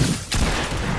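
A single heavy sniper rifle shot booms in a video game, a sharp close blast with a dense, noisy tail filling the short moment.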